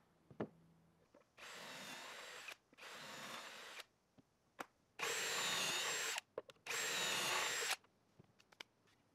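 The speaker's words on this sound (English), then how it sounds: "After drilling 2 pocket holes in the ends of all of our short boards" A power drill bores pocket holes into the ends of short wooden cornhole boards with a pocket hole jig, four loud whining bursts of about a second each, separated by brief quiet pauses and small clicks.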